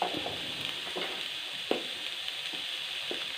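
Turmeric powder being stirred into a bitter gourd stir-fry in a pan, with a steady soft sizzle of frying and repeated scraping stirs at irregular intervals, close up and with no talk.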